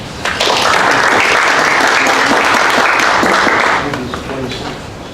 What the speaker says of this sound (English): So you can give a round of applause.